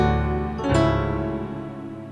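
A sustained gospel piano 3-1-7 chord rings close and moderately loud, with a second chord struck partway through, then slowly decays without talk.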